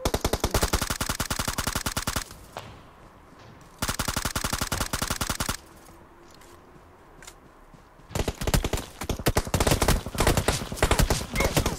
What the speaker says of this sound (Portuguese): tem um cara me atirando das costas, velho